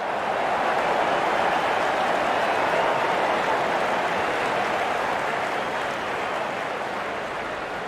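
A cricket stadium crowd in the video game Real Cricket 24 during an India versus South Africa match, a dense, continuous roar of cheering that holds steady throughout without breaks.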